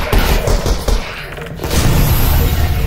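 A thrown grenade goes off in Half-Life: Alyx, a heavy booming blast with thuds and debris, followed by a loud rumbling tail that swells toward the end.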